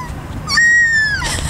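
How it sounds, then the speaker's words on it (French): A seagull gives a single drawn-out, steady cry that lasts about half a second, standing out clearly over a low background rumble where many gulls gather. "il y a vraiment plein de mouettes"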